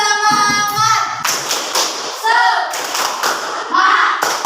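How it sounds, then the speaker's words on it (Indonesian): A fourth-grade class in an art lesson claps a rhythmic 'tepuk semangat' cheer routine, with bursts of hand claps and thumps mixed with children's and a teacher's chanting voices throughout. "Masih semangat? Masih. Tepuk semangat."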